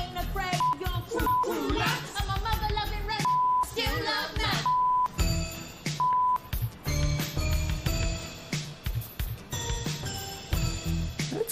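Repeated censor bleeps from the broadcast-editing video game Not For Broadcast, short steady tones punched in rhythmically over music and game dialogue, loud and close, with spoken voices and music running underneath.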